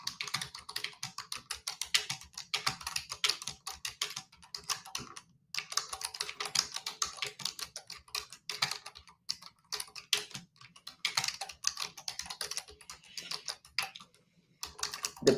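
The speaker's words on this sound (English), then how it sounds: "So give me a second while I type it up." Quick, irregular clicking of fingers typing on a computer keyboard, fairly quiet and close, coming in bursts with a couple of short pauses.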